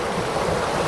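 A brief, constant burble of a mini waterfall in hilly jungle, close by and unbroken, with no speech.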